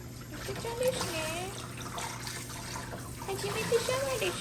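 Shower water runs steadily while a Chihuahua puppy is bathed at home, a soft continuous spray and trickle with faint squeaks, under quiet talking.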